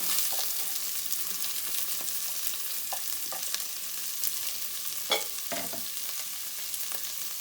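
Chopped onion frying in a pan for Karnataka-style tomato rice, a steady soft sizzle with a few scraping stirs and utensil taps, close and moderately loud, with no talking.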